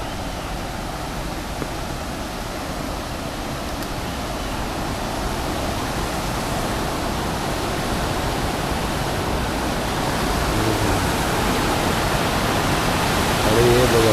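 The flooded Parya stream in Rajapur, Konkan, pours over a small weir in a steady, loud rushing roar that swells slightly toward the end, with no clear voices over it.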